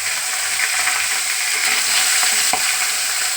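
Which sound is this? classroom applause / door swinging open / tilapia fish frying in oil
tilapia fish frying in oil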